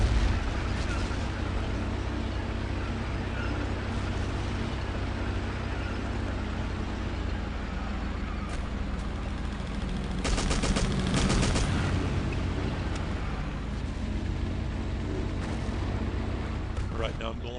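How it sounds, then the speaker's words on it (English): Bazooka rockets and gunfire in the Battlefield 1942 video game, with a steady dense barrage of rumbling blasts and shots aimed at a base and a stronger cluster of bangs partway through. "the two bazooka guys just blindly firing rockets all the way up into that base"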